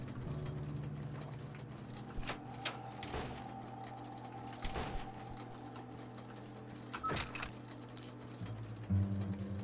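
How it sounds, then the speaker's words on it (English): Brief clicks from RPG Maker horror game Lucie sound as a few sharp, isolated ticks scattered over a quiet, steady hum of background game music. "Believe it did a clicking sound."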